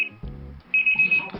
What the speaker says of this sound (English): Wakes up with alarm.